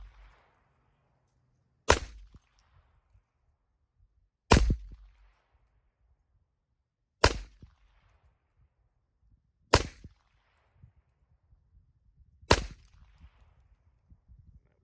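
Five sharp, well-spaced gunshots crack from a Ruger Mark IV 22/45 Lite pistol, each short and loud against near silence.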